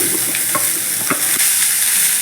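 Bottle gourd peel hitting hot mustard oil with fried onions in a pan, a loud close sizzle with several quick stirring scrapes and clacks across a short stretch.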